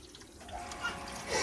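Water running from a newly connected tap inside a converted bus, a brief soft hiss and trickle that swells slightly toward the end, close and short with no voices.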